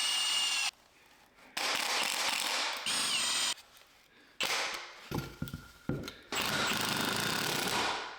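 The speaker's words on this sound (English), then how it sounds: "now I need to cut a 2x4 backer that will secure the lines in place" Power saw cutting a 2x4 wooden backer board, loud bursts of whining, buzzing cutting separated by short pauses and clunks of handling, close and without talking.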